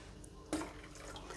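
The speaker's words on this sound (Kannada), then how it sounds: "ಇನ್ನು ಸ್ವಲ್ಪ ನೀರು ಹಾಕ್ತೀನಿ" Water poured from a small vessel into thin rice batter for neer dosa made with bottle gourd or cucumber, a brief soft splash in a quiet kitchen followed by faint trickling.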